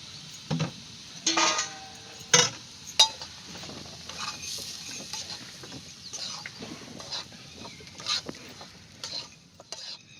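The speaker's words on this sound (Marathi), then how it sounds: "पुढच्या रवा भाजून घेते" Rava (semolina) roasts in a pan while being stirred, with scraping and occasional metallic clinks of the utensil against the pan over a faint background.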